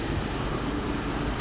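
A freight train rolls past on the Great Western Main Line between Reading and Bedwyn, a loud, steady rumble of wagons with wheel squeal and hiss, close and continuous throughout.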